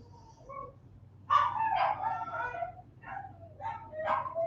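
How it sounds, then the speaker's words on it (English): Several dogs bark and carry on in a series of yelping bursts at moderate distance, starting abruptly after a quiet lead-in and continuing in uneven clusters to the end. "Now you're going to hear my dogs"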